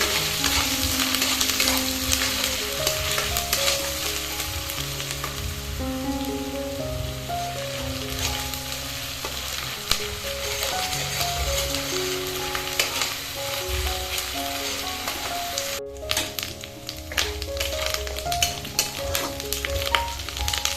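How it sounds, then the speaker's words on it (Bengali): Ginger, garlic and onion paste fries in smoking-hot oil, giving a steady, dense sizzle with crackling spatter that runs close and loud throughout, with no voices over it. "দেখুন তেলটা গরম হয়ে গেছে, তেল থেকে ধোঁয়া উঠছে। এর মধ্যে দিয়ে দিচ্ছি আদা রসুন পেঁয়াজ বাটা।"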